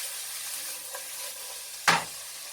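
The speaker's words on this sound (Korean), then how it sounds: "돼지기름으로 야채를 볶아주는 거예요." Vegetables stir-frying in pork fat (lard) for spicy pork bulgogi, a steady hissing sizzle broken by one brief scrape of stirring near the end.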